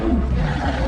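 A sloth bear gives a deep, sustained roar that fills the whole moment, loud and close with a rough, growling texture and no voices.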